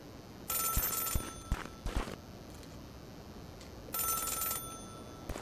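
A telephone bell rings in the video game Celeste, two separate bursts of bright ringing a few seconds apart, each clear and close, with a few soft taps between them.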